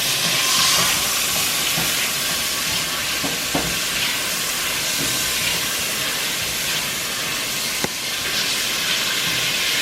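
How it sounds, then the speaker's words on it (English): Tomatoes and onions are tossed in a very hot pan for lomo saltado, giving a loud, continuous, hissing sizzle throughout. A few sharp clicks of utensils against the pan punctuate the steady roar. "toss in your tomatoes and onions. And this is going to be a quick little toss"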